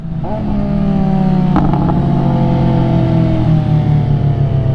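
A motorcycle engine runs close and loud at a bike meet, its tone climbing and holding steady with a brief mechanical clatter partway through, amid the roar of riding.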